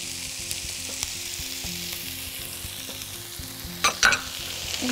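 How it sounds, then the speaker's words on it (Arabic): Garlic, coriander and parsley frying in a pan, a steady close sizzle with a brief burst of stirring and scraping near the end, no talking. "هنحط معاه الثوم، هنعمل الثوم بتاعنا وننزل الكزبره والبقدونس مع الثوم."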